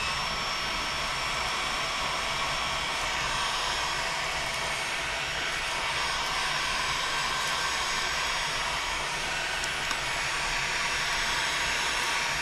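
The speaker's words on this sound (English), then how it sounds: "So then I just take my heat gun," Heat gun warming up before heating a large decal, giving a steady, even blowing roar that runs throughout at moderate level without talking.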